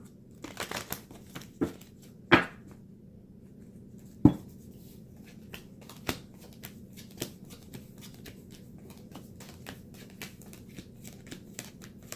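Soft, repeated riffling and tapping of a tarot deck being shuffled, quiet and close, with a few sharper snaps scattered through a hushed background.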